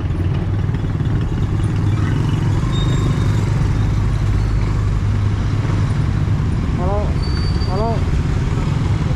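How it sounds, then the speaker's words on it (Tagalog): Road traffic with a steady low engine rumble of passing and idling cars, loud and close, plus brief chirping tones near the end. "Traffic."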